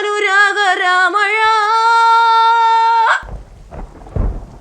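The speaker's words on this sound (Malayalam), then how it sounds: "ഭയങ്കര മഴ തന്നല്ലേ" Heavy monsoon rain with thunder at a house by a rock quarry. A sustained musical tone fills the first three seconds, then noisy bursts of rain and low thunder rumble in close for the last moments.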